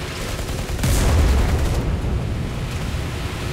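Heavy booming gunfire from ships in the naval battles of War Thunder, one deep blast rolling out amid a continuous low rumble of distant cannon and engine noise, no voices.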